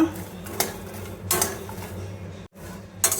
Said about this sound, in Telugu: ఈ ఉప్పు, కారం, ఈ మసాలాలన్నీ దీనికి పట్టేలాగా మనం ఫ్రై చేసుకోవాలన్నమాట